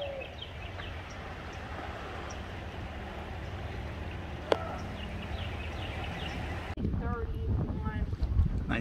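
Float boat riding through creek rapids on Indian Creek near Anderson, Missouri, with steady rushing water and wind noise throughout, a brief knock midway, and a voice speaking near the end.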